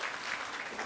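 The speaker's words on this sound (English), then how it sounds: "Round of applause for contestant number 4" A crowd applauds a contestant at a fashion round of a grand finale, with brief, steady clapping that holds at an even level.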